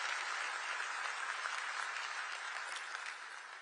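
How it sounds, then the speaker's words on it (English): Large crowd applauding Maestro Bocelli at the FIFA World Cup 2026 draw at the Kennedy Center, a continuous, dense wash of clapping from a big hall audience that tapers slightly at the end. "Can we clap hands for Maestro Bocelli once again?"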